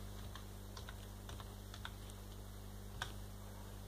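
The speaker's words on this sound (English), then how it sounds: "So if we type in emulator, oops, if I spell it right, of course." A command is typed on a computer keyboard, giving a quiet run of irregular close key clicks over a steady low electrical hum, with no talk.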